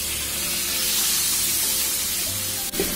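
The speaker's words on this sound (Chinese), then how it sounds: "把油烧热，然后下入豆腐" Tofu hitting hot oil in a wok, a loud, close, continuous hiss and spitting sizzle that holds steady throughout, with a brief bump near the end and no speech.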